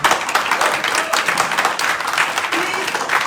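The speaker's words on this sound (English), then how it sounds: "I would like to have a thundering applause for Dr." Audience applause at a general convention hall, dense continuous clapping from a large crowd, loud and steady for the whole stretch.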